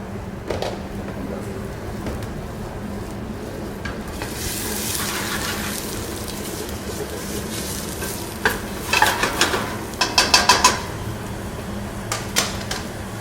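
Carrots, onion and celery sauté in a pan for a lasagna, a steady low sizzle under scraping and clacking spoon strokes that come in quick bursts toward the end.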